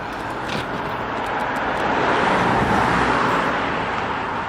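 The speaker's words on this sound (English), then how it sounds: "there's another car" A car passes along a road, its broad engine and tire noise swelling to a peak midway and holding loud and close, with no talking over it.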